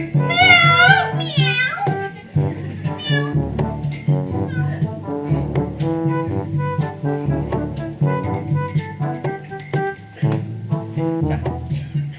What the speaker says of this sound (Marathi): काय नाही मांजर होती